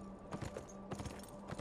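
Horse hooves running in Beyond: Two Souls, a faint, quick rhythmic clatter of hoofbeats over a low background hum, with no speech.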